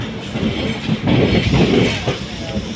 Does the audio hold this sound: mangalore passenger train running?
yes